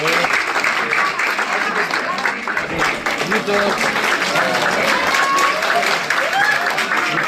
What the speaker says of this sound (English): Next we have a huge round of applause